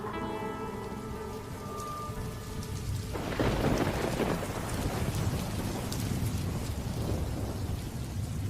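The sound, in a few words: rain and thunder outside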